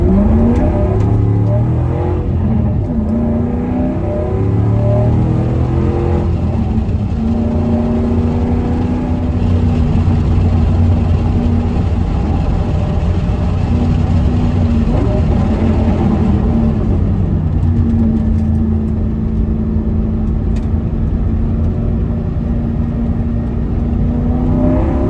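A car with a newly installed Maximum Motorsports Panhard bar drives on a test run, its engine a loud, steady drone with rising and falling revs throughout, heard close with no talk.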